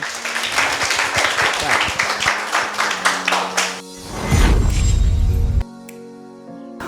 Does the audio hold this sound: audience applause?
yes